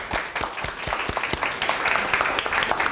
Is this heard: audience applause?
yes